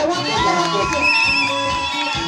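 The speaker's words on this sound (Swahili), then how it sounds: "Tupige nduru mpaka wakuje" A crowd at a parental-visit celebration keeps up loud shouting and long, high wavering ululation, with voices overlapping in a busy, sustained din.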